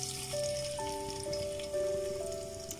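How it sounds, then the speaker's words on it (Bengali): Chopped onions sizzle and crackle in a hot pan while beef curry is being cooked, a soft steady frying hiss under faint background music. "যেহেতু আমরা মাত্র তিনজন, একটু বেশি করে পেঁয়াজ দিয়ে দিচ্ছি।"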